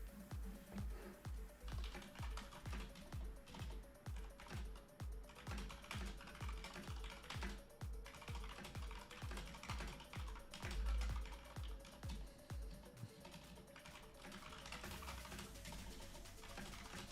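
A computer keyboard is typed on in rapid, steady bursts of clicking keys, fairly close and continuous for the whole stretch, with no talk over it.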